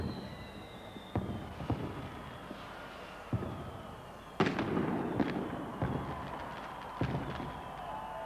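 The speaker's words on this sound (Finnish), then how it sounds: "Vielä hetken aikaa jatkuu tuo Hanabi-ryhmän ilotulitus." New Year fireworks by the Hanabi group crackle and boom over Helsinki at the millennium, with scattered sharp bursts over a constant crackling hiss and a heavier cluster of explosions midway, heard from a distance.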